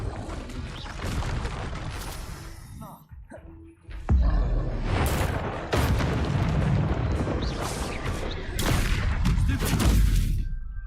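Explosive Confringo spell blasts in Hogwarts Legacy go off as several loud booming bursts with rumbling tails, mixed among other spell-combat noise and layered over a busy game soundscape.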